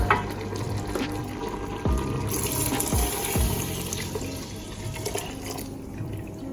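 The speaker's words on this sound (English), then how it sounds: "So what I'm gonna be doing now is just putting in the coconut milk." Coconut milk pours into a pot of meatless stew peas with a continuous liquid gurgle and splash, accompanied by a few soft knocks against the pot.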